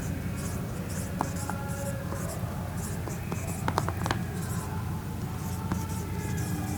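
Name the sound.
writing an entry by hand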